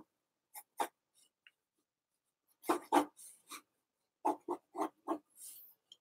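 A pencil scratches across paper during a live drawing demonstration, in short, close strokes that come in scattered bursts with quiet gaps between them and no talking.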